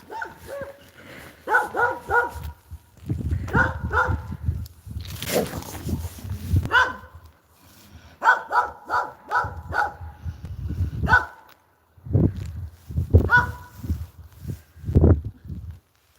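A dog barks repeatedly in short bursts and clusters, fairly close, with rustling and footsteps between the barks.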